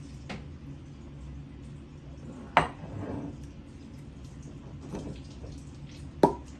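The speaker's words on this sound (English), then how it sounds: "That was a good cork pop right there." A cork pops out of a bottle of Bernheim wheat whiskey with a sharp, brief pop, followed a few seconds later by another crisp snap, over low background rumble.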